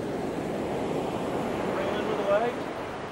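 Ocean surf rolling onto a beach at Whakatane, New Zealand, during surfcasting: a continuous broadband wash of breaking waves with wind noise on the microphone, steady and loud throughout.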